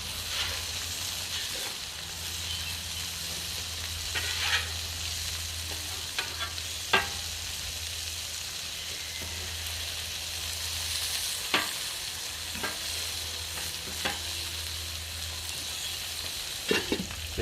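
Cheese-topped burger patties sizzle on a Weber grill under a melting dome: a steady, continuous frying hiss with a low hum beneath, punctuated by occasional sharp pops and crackles, close and moderately loud, no talking.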